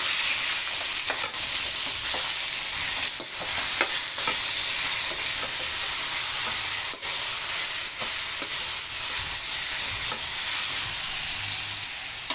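Marinated pork strips for teriyaki are stirred in a hot pan, giving a continuous close sizzle with soft scraping strokes from the stirring, and no voices.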